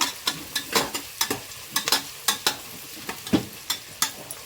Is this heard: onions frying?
yes